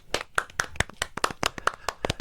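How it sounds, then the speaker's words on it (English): A few people clap in short uneven bursts, about a dozen sharp close hand claps over two seconds, with no talking. "Let me get some claps."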